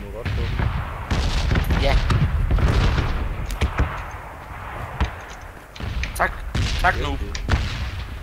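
Gunfire and explosions in PlayerUnknown's Battlegrounds, with dense booming shots and impacts running through most of the stretch, mixed with young voices talking over the game audio.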